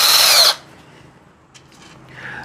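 A power drill drives a screw into wood during a desk or table build: one loud, near whirring burst of about half a second, then it stops and only faint background remains.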